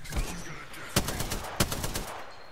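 Apex Legends gunfire comes as rapid automatic bursts with two sharp, louder shots standing out, fairly close against the game's background noise.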